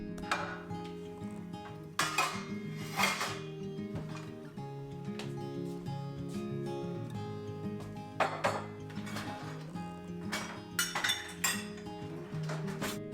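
Dishes being washed in a home kitchen: steady clinks and clatters of plates, pots and cutlery, with sharper knocks at intervals over a constant low running hum, close and fairly quiet, no talking.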